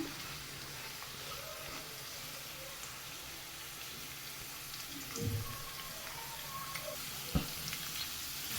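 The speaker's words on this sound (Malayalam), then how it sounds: "ഒരു 1 മിനിറ്റ് കഴിയുമ്പോൾ നമുക്ക് സവാള അരിഞ്ഞത് ചേർത്ത് കൊടുക്കാം." Thinly sliced onions sizzle softly in a hot pan, a faint steady frying hiss with a couple of brief stirring clatters, no talking.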